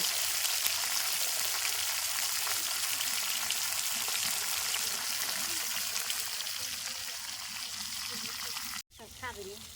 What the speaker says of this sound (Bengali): এই মাছগুলো আজকে ভাজা হইতেছে